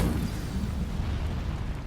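An Incendio fire spell is cast in the Hogwarts Legacy video game, a dense, rumbling burst of flame that roars steadily for a couple of seconds with no one speaking.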